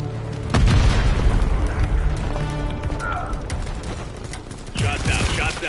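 Modern Warfare 3 airstrike on the Falcon tower, heavy booming explosions and rumbling blasts mixed with rapid gunfire, with radio chatter running through.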